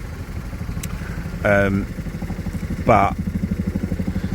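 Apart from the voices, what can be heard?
Fiat 500 TwinAir engine idling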